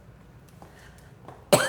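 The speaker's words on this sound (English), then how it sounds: "I have to cough again." A single sharp cough at the end after near silence, close and loud, from a woman fighting a cold.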